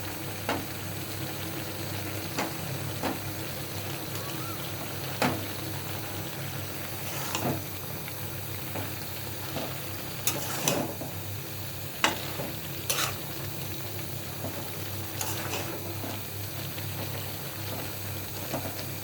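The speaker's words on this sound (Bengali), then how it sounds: "রসুন ছেঁচে এখন আমি দিয়ে দিলাম" Crushed garlic frying in a hot pan, a steady low sizzle with occasional sharp clicks and scrapes of stirring, fairly close and without any talk.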